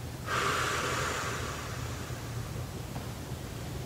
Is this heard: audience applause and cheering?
no